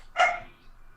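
A puppy gives a single short, sharp bark close by, rising quickly and trailing off, with no voices over it.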